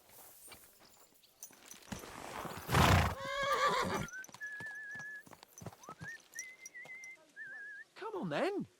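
A horse in Kingdom Come: Deliverance II whinnies loudly and close, then clip-clops along while a whistle-like melodic call rises and falls, and a second neigh breaks out at the end.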